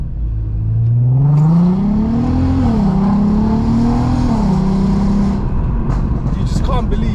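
Volkswagen Golf R MK7 at Stage 2 tune revving hard and accelerating, a loud close engine note climbing and holding in rising sweeps for several seconds before easing off, with faint talk underneath.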